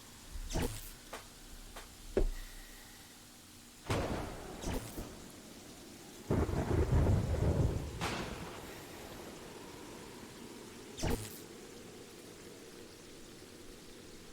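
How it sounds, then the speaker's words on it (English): Rain patters and thunder rumbles in the video game Terraria, with sharp cracks and a longer rolling boom over a quiet backdrop. "It's still raining, it's still raining, it's still frickin' raining"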